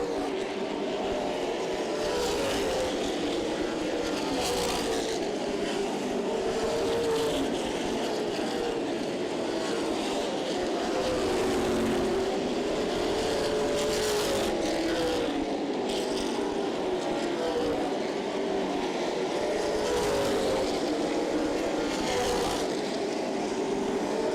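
Stock race cars in a CRA Super Series race at Berlin Raceway roar steadily, engine tones rising and falling as the pack passes, a dense continuous drone with faint commentary beneath.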